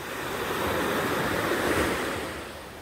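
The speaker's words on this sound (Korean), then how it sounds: "파도 소리 너무 좋죠?" Ocean waves breaking on a shore, a steady broadband roar of surf swelling slightly and then easing, close and loud with no voices.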